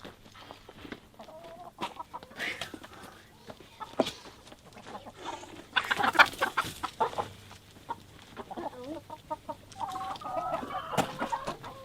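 Chickens cluck and squawk in and around a coop, with scattered close calls, a busier burst of flapping and clucking midway, and faint voices in the background.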